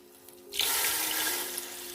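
After a faint hum, water suddenly gushes in a steady, loud splashing pour into a cooking pot of stock for Kabuli pulao, continuing to the end.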